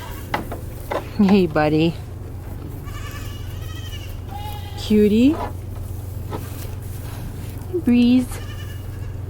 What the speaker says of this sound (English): this loud little stinker is my mama's baby goat